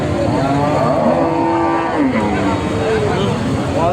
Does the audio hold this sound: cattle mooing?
yes